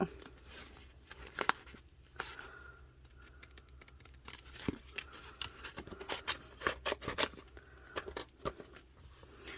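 Scissors fussy-cut butterfly decals, with faint irregular snips, paper rustles and crinkles scattered across the clip, close and quiet with light handling noise.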